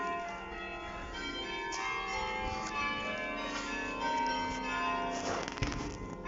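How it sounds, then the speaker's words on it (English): Church bells ring continuously behind a church in Nijmegen, their overlapping tones sustained and moderately near, with no talking. "Listen to those bells."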